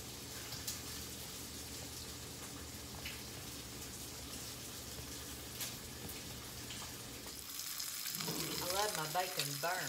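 Bacon frying in a pan while biscuits are made at home, a steady dense sizzle running throughout at moderate level, with a louder burst of crackling and clatter near the end as the pan is checked.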